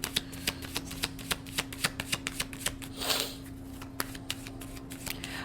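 Tarot cards shuffled by hand in a steady series of crisp, close riffling snaps, with a brief softer sliding flutter partway through.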